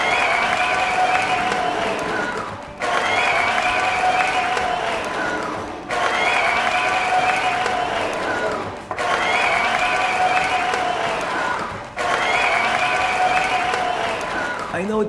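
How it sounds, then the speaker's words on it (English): Loud crowd applause with some cheering comes in repeated bursts of about three seconds, each fading briefly before starting again. "Give these heroes a round of applause!"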